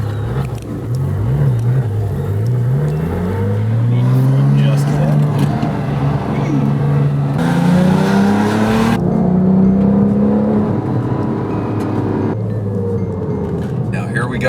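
A Porsche sports car accelerates hard on a spirited drive toward its 8,400 RPM redline, the engine note climbing in pitch through the gears with brief dips at the shifts, loud and close from inside the cabin.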